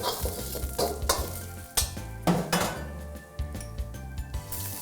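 Garlic sizzles in butter ghee in a pan for mutton rogan josh, with loud, close stirring, scraping and clinking of a utensil against the pan over the steady frying crackle.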